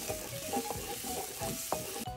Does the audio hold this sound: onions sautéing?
yes